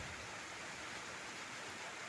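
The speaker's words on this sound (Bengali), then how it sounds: "দেখো তো কীরকম বৃষ্টি পড়ছে" Steady summer rain pours down in a continuous, even hiss, fairly quiet and unbroken, with no voices over it.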